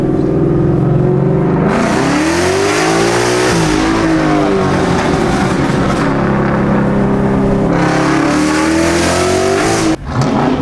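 A Ford Mustang engine revs hard and climbs through gears, loud and close, with the pitch sweeping up, dropping at each shift, and rising again.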